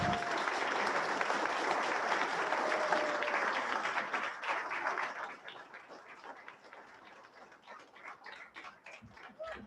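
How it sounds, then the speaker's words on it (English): Audience applause at a fire chief swearing-in ceremony, loud and dense clapping from a room of people that thins after about four seconds into scattered, separate claps fading toward the end. "I think that warrants a round of applause."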